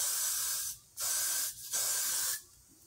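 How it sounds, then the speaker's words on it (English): Got2b hairspray is sprayed over foundation on a wig in three close, loud hissing bursts, each about half a second to a second long, separated by short pauses. "I'm going to go with my Gotta Be spray, and I'm just going to spray that so the foundation doesn't go anywhere"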